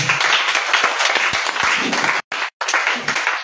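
A church congregation at a worship service applauds, a dense, steady wash of clapping that fills the whole stretch, briefly cut by two short dropouts near the end.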